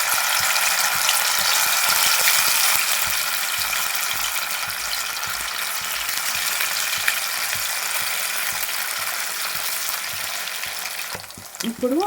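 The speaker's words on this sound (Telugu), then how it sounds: "ఇప్పుడు ఆయిల్ అనేది వేడైపోయింది కదా, మనం ఇందులోకి ఎన్ని ముక్కలు పడతాయో అన్నీ వేసుకోవాలి." Fish pieces frying in hot oil in a kadai, giving a loud, dense, continuous sizzle with crackling spits throughout, easing slightly toward the end, with no voices.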